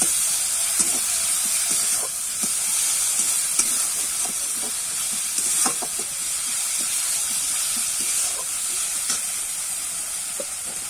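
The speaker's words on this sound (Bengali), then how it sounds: "এবারে কিন্তু টমেটো কুচিটা দিয়ে দেব, দিয়ে আবার একটু নাড়িয়ে চাড়িয়ে নেব।" Chopped tomato frying in a pan, stirred for a raw jackfruit chop filling: a steady close sizzle runs throughout, broken by repeated scraping stir strokes, with no talk.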